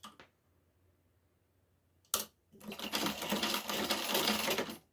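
Sewing machine stitching fabric, starting after a couple of sharp clicks and a pause, then running fast and steady in a loud continuous rattle close by until the end.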